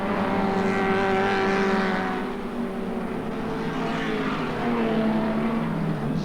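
Race cars roar around Archerfield speedway, a steady loud drone of engines held flat out with rising and falling pitch as cars pass, no talk over it.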